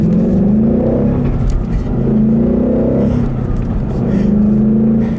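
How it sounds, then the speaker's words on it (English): A car accelerates hard from inside the cabin, its engine droning loud and close in repeated rising surges as it pulls through gears, with no talking over it. "I'll leave you guys with a nice little acceleration here"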